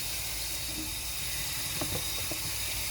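A cup is rinsed under a running tap, with a steady broad hiss of water throughout and a few soft splashes and clinks near the end, close and without talk.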